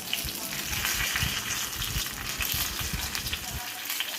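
Fish pieces fry slowly in a small amount of oil over a medium flame, giving a steady close crackle and sizzle with small popping bursts throughout.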